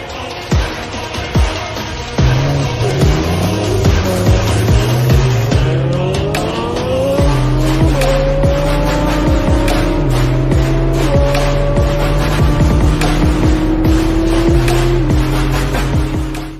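Infiniti Q50 V6, tuned to 520 hp, races a Jaguar F-Type with a supercharged 5-liter V8. Both engines rev hard through rising gear pulls with shifts, loud and sustained, with brief tire noise.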